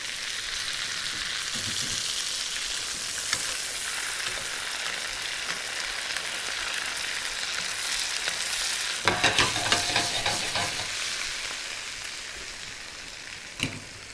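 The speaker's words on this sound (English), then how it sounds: "Now we see our nuts are cooking." Cashew nuts fry in browning butter, giving a steady, close sizzle with a dense crackle that briefly intensifies into a burst of spatter before easing off, and no voices.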